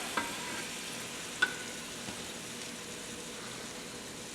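Chicken pieces browning in a pot give a quiet, even sizzle throughout, broken by a couple of faint utensil clicks near the start and middle.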